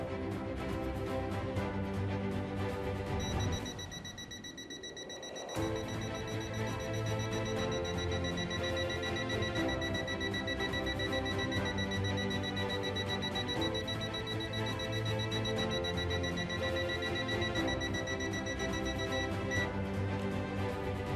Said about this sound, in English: Thanks to the NCV feature, you can detect AC voltages.